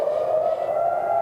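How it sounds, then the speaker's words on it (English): Air raid sirens warning of an Iranian missile attack on Tel Aviv drone steadily in the distance, one held wailing tone with no talk over it. "These sirens that you hear off in the distance, again, are used to warn the population to get into shelters"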